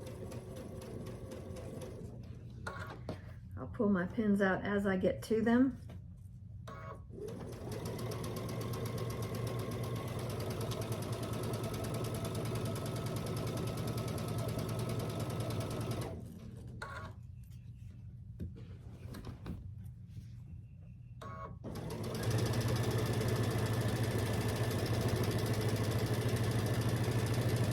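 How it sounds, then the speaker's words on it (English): A sewing machine hums steadily while it stitches a sashed t-shirt quilt at a quarter-inch seam, with long continuous runs broken by brief pauses and someone talking quietly in between. "Start stitching this at 1/4 inch"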